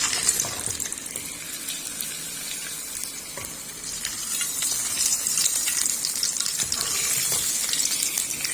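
Kasuri methi hits hot oil in a spoon while tempering a kadhi. A close, continuous bright hiss of sizzling swells slightly toward the end, with no voices.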